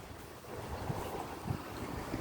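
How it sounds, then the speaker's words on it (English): Wind blowing outdoors near a workplace parking area, a faint steady rush buffeting the microphone with low rumbles and no talking. "the wind's blowing"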